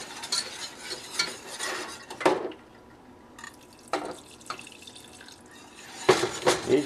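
Milk sauce for scalloped potatoes being stirred in a pan, soft intermittent scraping and liquid sloshes with a few sharper clinks, quiet and close, separated by short pauses.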